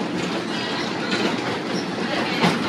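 A century-old wooden railway carriage rattles and clatters steadily along the tracks from the inside, a dense continuous rumble with light clacking and faint squeal, loud and alone with no voices.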